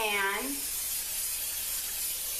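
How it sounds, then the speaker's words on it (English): Cooking spray hisses onto a meatball baking pan in a home kitchen, a steady close spray lasting about two seconds right after a brief spoken word. "I'm gonna spray this pan"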